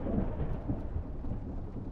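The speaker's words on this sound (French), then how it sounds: "Ah, parce qu'il y a de l'orage en plus." Thunder rumbles low and heavy in a continuous rolling wash with a hiss of rain, filling the whole moment at a moderate level and with no voices.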